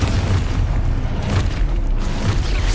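Expulso spell explosion in the Hogwarts Legacy video game, a loud continuous booming rumble with heavy low-end roar and repeated bursts across the clip, no talking.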